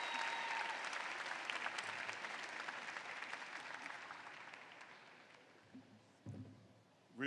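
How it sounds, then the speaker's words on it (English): A round of applause at a graduate school commencement ceremony, a broad, dense crowd clapping that is strong at first and slowly tapers off, with a few thumps near the end. "Give her another round of applause."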